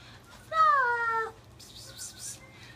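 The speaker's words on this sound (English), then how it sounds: "I got Fluffer. That's a kitty cat" A kitten in an X pen gives one clear, drawn-out meow up close, followed by faint rustling and soft background noise.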